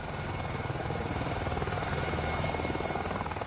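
An Apache attack helicopter fitted with a Longbow radar pod flies past, its rotor throbbing in a steady, fast rhythm over a loud, continuous turbine roar that fills the scene.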